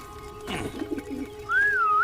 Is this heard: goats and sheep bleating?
no